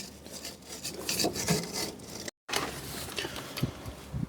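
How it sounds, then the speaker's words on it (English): A stiff brush scrubs the bolt threads on an Opel Corsa Utility 1.4i control arm in close, rapid back-and-forth rubbing strokes, with a short break partway through. "Just give him a good brush. Both sides of your threads. And brush those threads."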